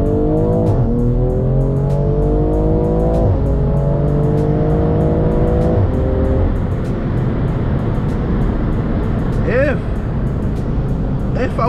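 BMW M340i with an MHD OTS stage 2 tune, downpipe and E40 fuel mix, revving loudly up through gears in repeated rising pulls, then settling to a rumbling drone under a voice talking.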